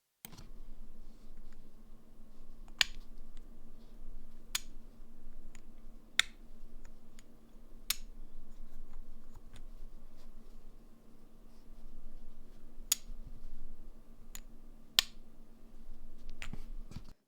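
Silent mechanical keyboard switches are typed on in short, sparse bursts: a dozen or so soft, sharp clicks spread over a steady low hum, with no talking.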